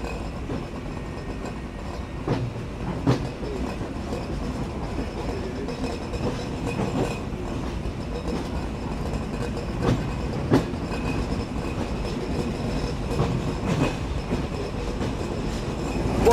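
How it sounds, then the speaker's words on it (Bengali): A train pulls out of Poradah Junction toward Kushtia Court, with a steady rumble and regular clickety-clack of wheels over rail joints and occasional sharper knocks, heard from aboard with no voices. "ট্রেন ছেড়ে দিল তার পরবর্তী যাত্রা বিরতি স্টেশন কুষ্টিয়া কোর্ট রেলওয়ে স্টেশনের উদ্দেশ্যে"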